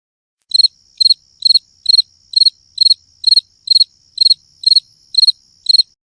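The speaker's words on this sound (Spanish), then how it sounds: "Grillo." A cricket chirps in a steady series of twelve short, evenly spaced trills over a faint continuous high whine, close and clear with no other sounds.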